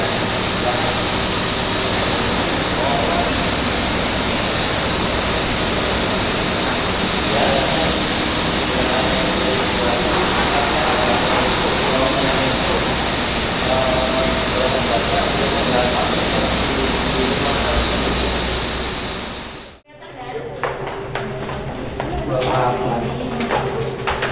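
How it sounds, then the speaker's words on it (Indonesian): HVAC air handling unit machinery runs with a loud, constant roar and steady high-pitched whine inside an industrial plant, then cuts abruptly near the end before resuming, with voices talking underneath. "Ini ada beberapa mesin-mesin untuk mesin APAC-nya ya, namanya AHU"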